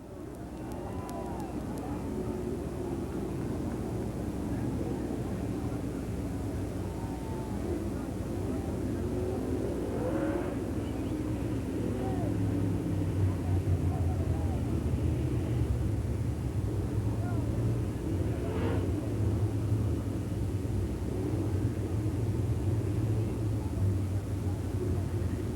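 Dirt track race cars at Pennsboro Speedway in 2001 heat racing, a sustained distant engine roar that swells and fades as the pack passes, with crowd and track noise and an announcer's voice over it.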